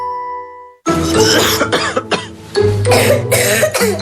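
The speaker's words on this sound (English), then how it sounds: "When coughing keeps your family awake" A burst of harsh, repeated coughing, several hacking coughs in quick succession, loud and close, with a brief throat-clearing quality.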